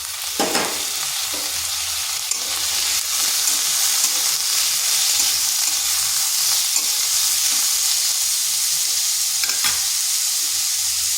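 Medium potato pieces sizzle steadily in a hot pan for a drumstick-leaf (sajne shak) dish, with a constant frying hiss and occasional stirring scrapes, close and fairly loud.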